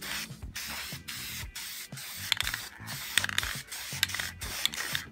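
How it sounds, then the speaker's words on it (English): Purple spray paint hisses from an aerosol can in short repeated bursts as a second coat goes onto a Harbor Freight mechanic's chair being rebuilt, with brief pauses and faint rattling between passes. "I don't want to just hold the can on and keep moving because you get runs that way."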